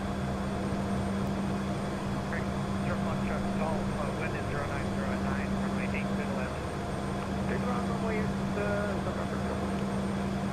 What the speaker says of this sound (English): Let's go ahead and spool up the APU.